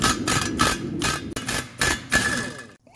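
An impact wrench removing a brake caliper on a 1984 Mercedes 300SD, loud repeated rattling bursts of hammering in quick succession, close up, with no talk.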